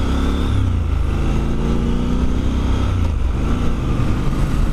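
Triumph Scrambler 1200 XE motorcycle engine droning steadily under way, a loud, close, continuous rumble with wind noise and a slight pitch drift but no sharp revs.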